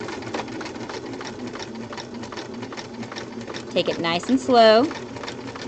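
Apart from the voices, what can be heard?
sewing machine sewing a back stitch on a lap seam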